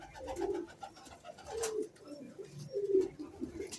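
Pigeons of an old 15-to-20-year bloodline coo in a loft in the evening, giving three low, rolling coos at a steady pace, close and soft.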